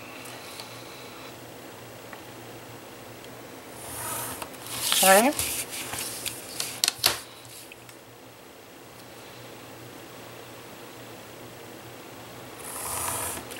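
Scissors snip through a paper card while making a double point panel card, a short burst of close crisp cuts around the middle with light rustling and a brief spoken word.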